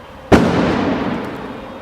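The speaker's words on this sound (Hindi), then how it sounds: "वो था दिवाली पटाखा." A single loud Diwali firecracker bursts with a sharp crack, then a long rumbling decay trails off over the following second and a half, fairly close, with no talk.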